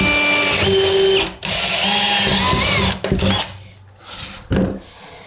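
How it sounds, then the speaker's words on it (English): A power drill whines at high speed in several bursts while drilling a hole for a plastic shower wall kit, the motor pitch rising and dropping as it bites, with brief pauses between runs. "We're going to drill a second hole next to it."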